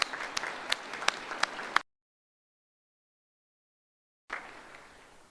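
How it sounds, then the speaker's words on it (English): Audience applause at a Navy Officer Development School graduation in Newport, a crowd clapping with sharp individual claps standing out, cutting to silence, then a softer burst of clapping resumes. "Please join me in a round of applause for her outstanding performance."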